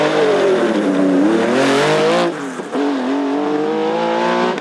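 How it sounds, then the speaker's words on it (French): A historic Porsche 935 Silhouette race car climbs a French mountain hill-climb course, its engine loud and near as revs rise and fall. A brief dip sounds like a gear change before it pulls hard again. "Jean-Marie Almeras et sa Porsche 935 Silhouette que l'on ne présente plus"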